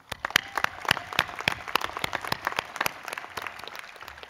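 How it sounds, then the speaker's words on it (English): Audience applause at a college commencement ceremony, crisp distinct handclaps from a crowd, fairly close and lively, forming a dense continuous patter that carries through the whole stretch. "Let's please give them a round of applause."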